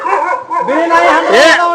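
A dog barks and yips several times at close range, mixed with overlapping talk from people nearby.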